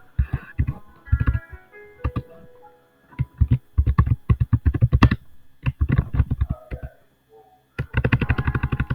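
Computer keyboard keys clatter as an example address is typed, with quick bursts of crisp clicks separated by short pauses, close and clear with no talking.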